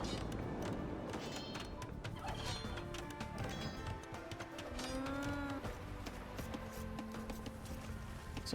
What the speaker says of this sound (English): I can hear the cows lowing.